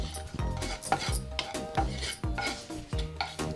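Peanuts coated with turmeric, chili powder, chaat masala and salt are stirred in a pan: repeated scraping and rattling strokes at close range, with no talking.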